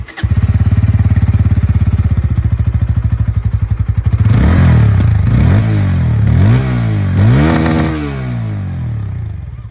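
A 2025 Bajaj Pulsar N160 motorcycle's underbelly exhaust idles with a rapid, thumping putter, then revs sharply several times in quick bursts, loud and close.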